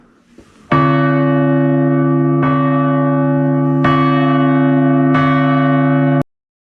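A church bell in Sutera rings four loud, resonant strikes at steady intervals, each tone sustaining and overlapping into the next, then cuts off abruptly.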